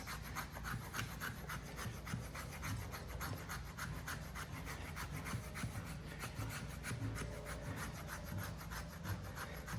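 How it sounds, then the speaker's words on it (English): Steel knife spine scraped repeatedly across a small piece of wood, a steady rasping rub with quick regular strokes, close and continuous throughout with no talking. "Let's see if it'll do some kind of scraping here"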